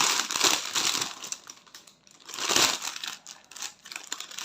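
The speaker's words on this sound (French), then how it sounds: "Alors, on va déballer tout ça." Cross-stitch kit packaging is unwrapped with loud, close plastic crinkling and crushing that comes in two main bursts separated by a brief lull.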